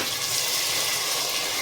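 Tomato frying in a pan for dal khichdi, a steady bright hiss and sizzle with no pauses.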